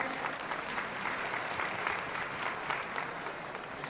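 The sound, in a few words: audience applause at steer show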